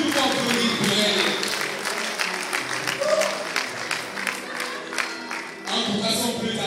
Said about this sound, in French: est-ce que nous pouvons applaudir fortement pour elle?